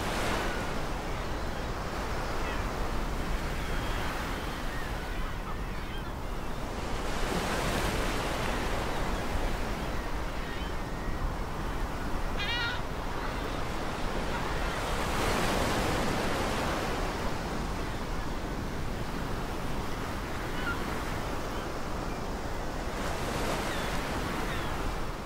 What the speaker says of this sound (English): play the entire thing with all of the actual panning and with the waves and the birds and all that stuff